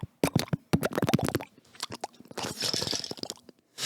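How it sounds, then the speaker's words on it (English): Ice being chewed close to the mouth: rapid loud crunches in quick bursts, then a stretch of wetter grinding and crackling before a brief pause. "chewing on ice because I'm real thirsty"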